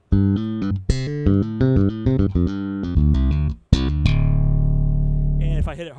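Legato bass notes from the Spectrasonics Trilian iPhone app: a soft, expressive run of connected bass notes gliding one into the next, then a long sustained low note, played alone.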